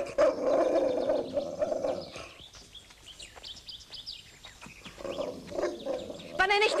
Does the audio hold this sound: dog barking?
yes